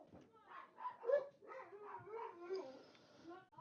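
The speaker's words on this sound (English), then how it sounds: "Dogs are being annoying for no reason." Several dogs yip, howl and whine in a close, uneven run of short cries that overlap one another, fairly loud and close throughout, with no talk over them.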